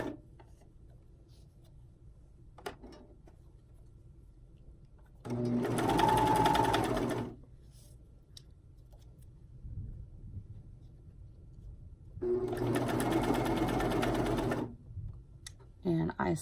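Sewing machine stitching elastic onto bikini bottoms: two loud, close bursts of rapid mechanical stitching, each lasting about two seconds, separated by quieter pauses with faint handling sounds.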